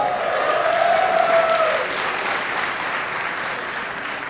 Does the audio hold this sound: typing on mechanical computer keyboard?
no